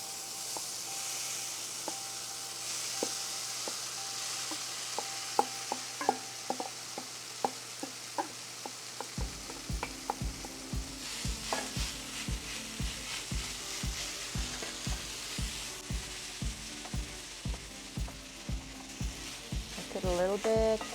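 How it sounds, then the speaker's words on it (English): Vegetables for a vegan tofu scramble sauté in a pan with a soft, steady sizzle, then a spatula scrapes and stirs them in regular, repeated strokes that grow busier toward the end. "Okay, so this smells like it's already cooking. Let's just saute these."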